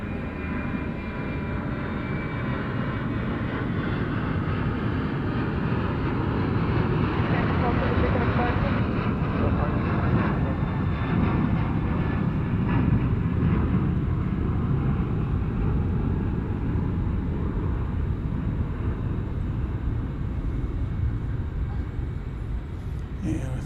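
Airliner at DFW Airport at night builds a steady, moderately distant jet roar that swells in the middle and lingers, with radio chatter and a voice speaking over it.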